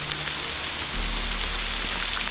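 Rain falls at the Omni Mount Washington Hotel mountain resort, a close, continuous wash of droplets with a low rumble underneath, steady throughout and without talk.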